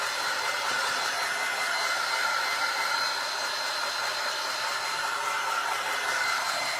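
Hair dryer blowing steadily to dry paint on a vintage wooden frame, a constant loud airy whoosh held close and unbroken throughout, with no talking.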